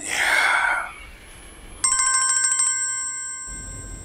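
A telephone rings with a bright electronic ringtone, a short burst of repeated tones after a brief muffled voice at the start, then the line falls quiet.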